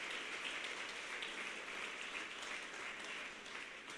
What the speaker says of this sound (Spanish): vamos, dele un aplauso a Dios.